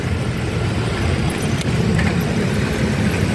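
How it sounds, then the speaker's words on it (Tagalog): Heavy road traffic on the C5 elevated road near a U-turn, heard from a bicycle: a dense, steady low rumble of engines and tires, loud and continuous. "Traffic na ng C5 guys."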